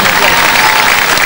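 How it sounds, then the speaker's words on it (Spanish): Outdoor crowd in a city plaza at a Three Kings Day reenactment gives loud, dense applause, steady throughout with voices mixed in. "un aplauso para nuestro rey Baltasar"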